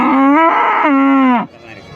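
A cow at a cattle market in Karimangalam lets out a loud, close moo in two drawn-out tonal pulses lasting over a second, then it cuts off to quiet background.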